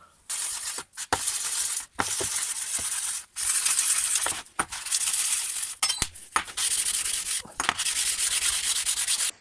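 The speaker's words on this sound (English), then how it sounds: "get me whetstone just to run it over" A whetstone rubs back and forth over the blades of a Stihl HLA 56 hedge trimmer. Steady, loud, gritty strokes come close to the listener, broken by brief pauses and occasional metallic clicks, with no talking.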